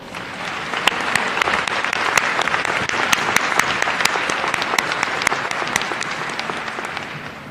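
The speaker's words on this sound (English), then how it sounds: "Please let's give them a round of applause." University commencement audience applauding the choir, sustained loud clapping from a large crowd with individual sharp claps standing out near the front, steady for the whole stretch.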